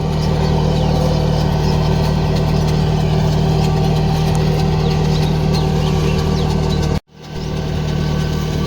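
Powertrac Euro 45 tractor pulling a rotavator through field soil in low 2-3 gear, its engine a loud, steady, close drone with a rumbling low hum, cut off abruptly near the end before returning.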